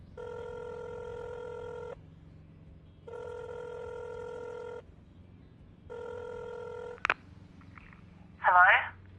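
A telephone rings three times, with the repeated buzzing rings evenly spaced and separated by pauses. A short click and a brief voice come after the last ring.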